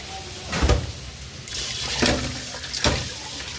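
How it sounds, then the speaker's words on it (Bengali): Rice being rinsed with water in a home kitchen: splashing, swishing bursts of water come in a few separate pulses, fairly close and moderately loud. "চালও ধুয়ে নিচ্ছি"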